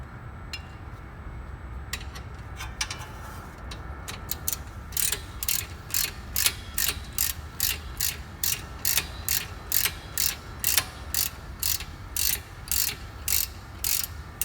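A torque wrench ratcheting the front brake bolts on a Saab 9-3 Aero: after a few scattered clicks, a steady run of sharp, evenly spaced metallic ratchet clicks repeats close by for about ten seconds, with no talking.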